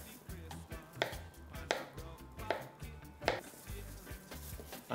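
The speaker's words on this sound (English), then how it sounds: "And then we just make some thin slices." A knife slices plantain into thin slices on a board, sharp, evenly spaced chops about every second, close and clear with no talking.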